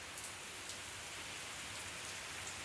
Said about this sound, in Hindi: ये बारिश, ये दिल्ली की बारिश, ऐसी ज़बरदस्त बारिश तो मैंने कई सालों में नहीं देखी।